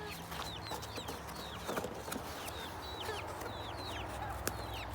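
Chickens of Polish and Leghorn breeds cluck softly in a barnyard that also keeps ducks, with chirping birds and steady outdoor background noise throughout.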